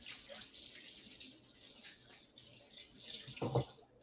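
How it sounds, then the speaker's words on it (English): Tap water runs steadily into a sink during handwashing, a soft, even hiss heard close but quiet, with a short louder splash near the end. "let me wash my hands"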